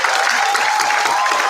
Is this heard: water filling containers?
no